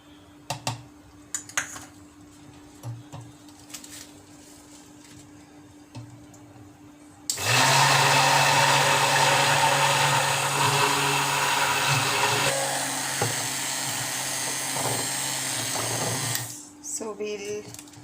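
A stick blender mixing cold process coffee soap batter whirs loudly and steadily for about nine seconds, dropping slightly in pitch midway, preceded by quieter handling clicks and clatter.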